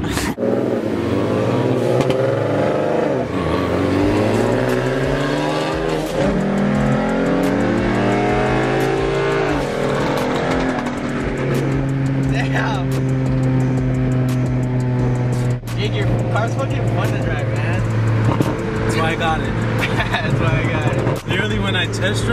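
A Ford Mustang's engine revs and drives close by, with loud, sustained rising and falling pitch sweeps as it accelerates through the gears, then settles into a steady, droning cruise.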